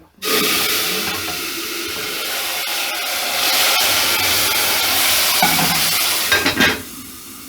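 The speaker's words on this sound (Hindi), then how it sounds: "अब ये जो शीरा ये भी तैयार हो गया। अब ये मैं इसमें डालने लगी हूँ।" Hot sugar syrup poured into a pan of roasted vermicelli for sweet seviyan, a loud continuous sizzle and bubbling hiss that swells and crackles for several seconds before suddenly dropping away, with no voices.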